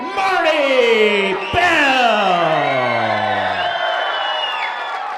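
A wrestling crowd at an NWL Kansas City show loudly cheers and whoops for Marti Belle, a dense sustained roar of voices with shouts rising over it as a ring announcer calls her name.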